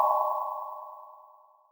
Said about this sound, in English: So now if I play the get down sound, it'll be shifted and reverbed.